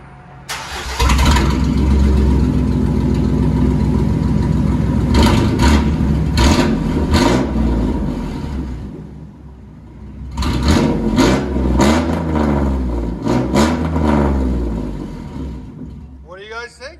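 A 2004 GMC Sierra pickup with a 4.3L V6 and straight-pipe side exhaust, muffler deleted, rumbles loudly at close range with a deep idle and several sharp revs, some brief talk mixed in.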